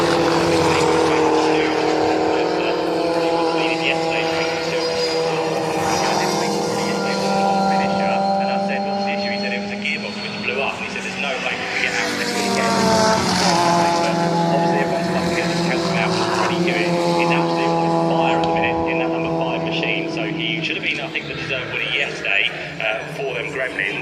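Mini race cars at the Brands Hatch Mini festival scream past, their engines loud and close, rising and falling in pitch as they rev through the gears, under continuous commentary.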